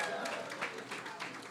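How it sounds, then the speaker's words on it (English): Audience at a community partnership breakfast clapping hands together, a steady dense patter of many hands filling the room at moderate level without pause. "clap your hands one more time"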